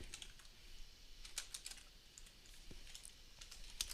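Someone types C code on a computer keyboard in quick, uneven bursts of light clicks. The keystrokes are faint and close, with short pauses between them and no voice.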